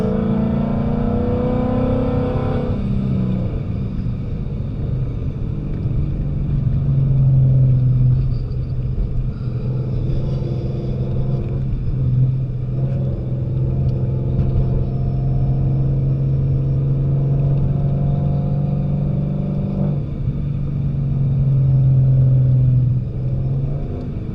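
A 1000 hp Ford Mustang driven at night gives a steady, deep engine rumble heard from inside, with gentle swells as the throttle changes and no talking.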